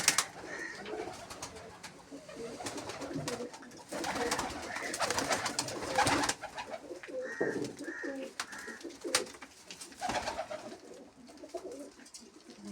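Pigeons, including a young black one, coo repeatedly in a loft, soft throaty calls in short bursts amid wing flutters and rustling, moderately close.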